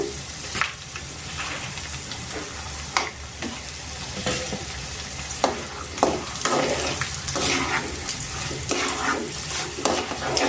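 Dried red chilies fry in hot oil for a mango pulihora tempering, giving a loud, continuous sizzle broken by frequent scraping stirs and crackling spatters throughout.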